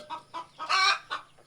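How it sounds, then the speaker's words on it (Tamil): A brooding hen sitting on a clutch of eggs in an egg tray gives a short series of close, soft clucks, with one louder, longer cackle in the middle. "இப்போ நம்ம ஒரு கோழி அடையில் கிடக்கு"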